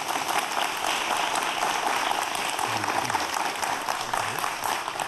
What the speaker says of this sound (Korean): 오늘 아주 재미있는 강의 해주신 교수님께 큰 박수 부탁드립니다